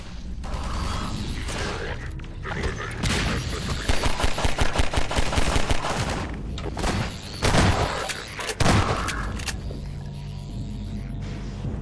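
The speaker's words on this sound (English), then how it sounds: "Just listen to how a Combine soldier's gunshots change as you drive towards them." Combine soldier gunfire in Half-Life 2, heard while driving the buggy toward them: rapid bursts of shots over a loud, rumbling vehicle drone, with clattering mechanical rattles in between.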